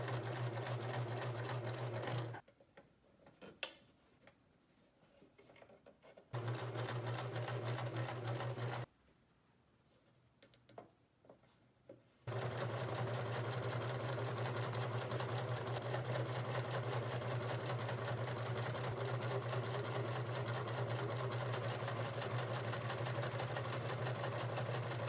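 Sewing machine running steadily while stitching a double hem along the sides of blouse fabric, a loud, even motor whir that pauses twice briefly before continuing unbroken to the end.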